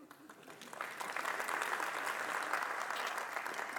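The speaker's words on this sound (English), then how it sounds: "take the chance to clap or something" Applause from a conference audience builds quickly and holds steady, a dense, continuous patter of many hands clapping.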